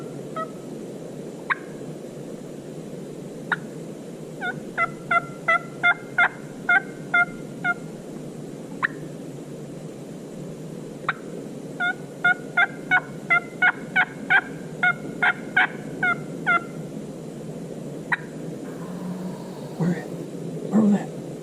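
Wild turkeys answer a hunter's mouth call outdoors, with sharp bursts of calling and gobbling repeated in rapid series at moderate distance over a steady background hiss.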